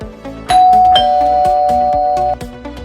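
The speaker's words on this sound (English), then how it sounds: "the traditional doorbell will take over when a visitor presses the doorbell switch" A traditional wired doorbell rings when its push switch is pressed, giving one loud, sustained electric ding tone that holds steady for almost two seconds and then stops, with a faint rhythmic tapping in the background.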